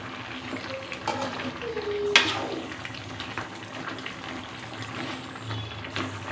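Chicken curry for Pallipalayam-style salt chicken simmers in an open pot as its water cooks away, giving a steady close sizzle and bubbling with a few faint clinks, and no voices.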